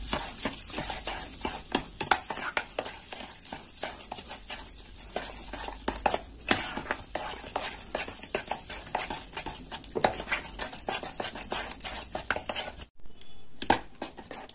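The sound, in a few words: stirring banana sherbet with cold water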